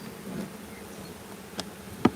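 A soft, steady hum of honey bees buzzing close by in an opened hive during maintenance, with a couple of brief clicks or taps cutting through.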